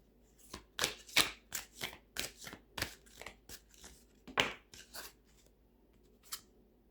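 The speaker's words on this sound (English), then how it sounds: "I'm going to pull one from the Modern Witch Tarot deck by Lisa Sterle." Modern Witch Tarot cards being handled and shuffled: a run of quick, crisp riffling and slapping bursts, close and fairly quiet, thinning to a single flick near the end, with no voices.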